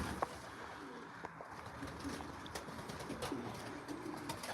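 Pigeons in a loft aviary coo softly and intermittently, with occasional light wing flutters against a steady, faint background hum.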